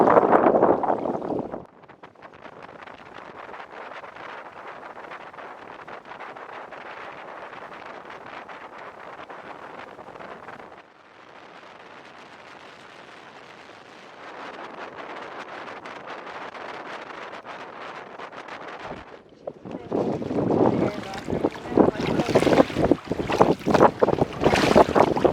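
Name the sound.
boat moving on water in the wind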